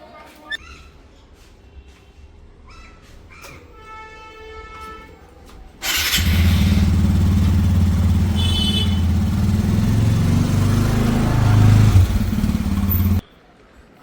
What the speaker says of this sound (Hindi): गाड़ी स्टार्ट करके जा रहे हैं,